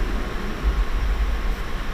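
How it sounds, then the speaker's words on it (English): A steady low rumble of traffic going by outside, broadband and continuous with no distinct horns or voices. "there's probably going to be a lot of cars making noise and stuff"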